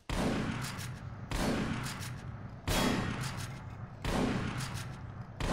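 Repeated bursts of gunfire in a Half-Life 2 mod video game, four loud, dense volleys in a steady rhythm, each starting sharply and decaying into rumbling echo.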